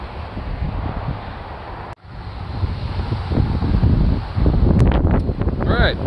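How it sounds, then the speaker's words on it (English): Gusty outdoor wind buffets the microphone with a constant low rumble that swells stronger toward the end, with brief crackles and someone talking over it. "the wind's kind of kicking up to the point where not even my friendly tree here is strong enough to actually block out most of the noise"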